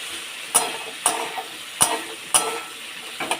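Potatoes with turmeric frying in a pan give a soft sizzle, broken by several sharp, evenly spaced clicks and scrapes of a spatula stirring, close and moderately loud, with no voices.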